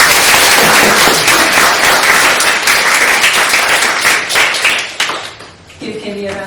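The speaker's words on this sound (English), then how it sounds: "give KV a round of applause." An audience gives a sustained round of applause after a Q&A session, loud dense clapping that fades near the end as a voice starts speaking.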